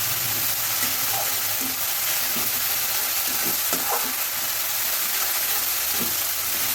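Ginger and garlic fry in a pan for a fish and potato curry, giving a steady, close sizzle and hiss that runs throughout, with soft stirring scrapes.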